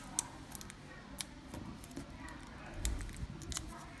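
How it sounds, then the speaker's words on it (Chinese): Insulating tape is peeled off an old phone battery, giving close, quiet crackling rips and sticky tearing bursts scattered over a few seconds, with no talk. "这儿是粘的绝缘胶布，我们把它撕开"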